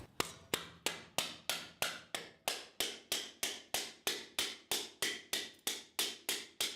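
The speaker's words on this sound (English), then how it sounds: "I prefer to use a rubber mallet when I'm bending my metal" A rubber mallet striking a steel framing bracket while the metal is bent, about twenty evenly spaced blows in a steady rhythm, each a sharp thud with a short ringing decay, close and alone.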